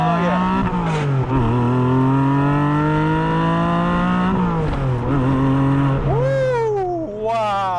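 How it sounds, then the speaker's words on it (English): A Porsche Cayman GTS 4.0 with its six-speed manual and 4-liter engine accelerates hard, the exhaust note climbing steadily, then dipping and blipping through a rev-matched downshift before revving up again, loud and close throughout. "Rev match downshift sound really nice."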